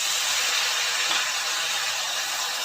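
Coriander-powder spice paste sizzling in a pan as a little water goes in, for a bhola fish curry with beans, potato, radish and eggplant; a steady, loud, close hiss that holds evenly throughout with no talking.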